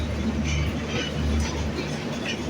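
The Ekta Express intercity train (UP 705, Dhaka to Panchagarh) rumbles along near Ishwardi bypass, heard from inside the last coach: a steady low roar with rhythmic wheel clacks and faint rail squeal, no talk.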